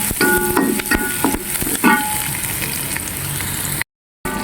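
Garlic and onion frying in a pan for a home-cooked chicken liver and broccoli dish, a steady loud sizzle with a few clinks and stirring scrapes, then a brief dropout near the end.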